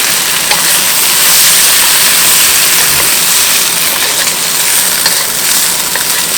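Vegetables lightly sautéing in a hot pan for an Italian sausage, potato and onion bake, a loud continuous sizzling hiss with faint crackles throughout, no voices.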